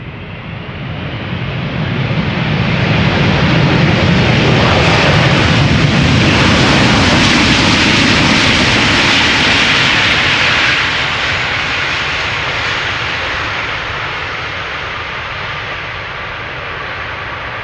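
A Singapore Airlines Cargo jet arriving from Nairobi lands at Schiphol Airport, its engine roar building to a loud sustained rumble, then easing slowly into a fading broadband whoosh.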